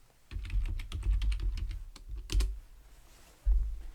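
Computer keyboard being typed on, a quick run of light clicking keystrokes close by, a brief pause, then a few more taps, with no talking.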